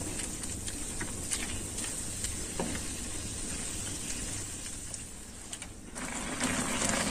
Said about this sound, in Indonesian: Kita aduk. Kita masak sampai bumbunya ini menyerap ke dalam ususnya dan airnya asap.